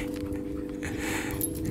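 Miniature beagle puppies pant rapidly and steadily at close range while playing, with faint whimpers and small yips mixed in and no talking.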